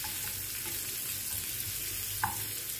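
Ginger slices sizzle in butter for a tadka, a steady close crackling fry with soft stirring sounds and a small pop near the end.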